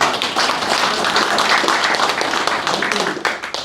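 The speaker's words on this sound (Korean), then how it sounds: "두 분, 수임하시는 두 분 대장님들한테 박수 한번 크게 쳐주겠습니다" A loud, dense round of clapping from the crowd at an inauguration ceremony for newly appointed volunteer fire brigade captains of the Nonsan fire station, continuing steadily for several seconds.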